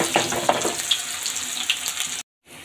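Chopped onion and garlic hitting hot oil in a Bangladeshi home kitchen, giving a steady close hiss and crackle with a few sharper pops, cut off abruptly near the end before the sizzle resumes.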